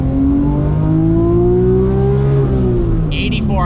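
A Porsche 911 GT3 RS (997.2) with a manual transmission revs hard, its exhaust note climbing steadily and then dropping off, loud and close, with a brief higher sound at the end.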